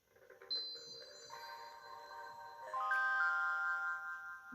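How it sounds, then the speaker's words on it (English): Missed-call alert tone from a Mobistel EL600 dual-SIM Chinese mobile phone, a chiming electronic melody of layered bell-like notes that rises in pitch and grows slightly louder, faint and unaccompanied. "It's telling me now I got a missed call."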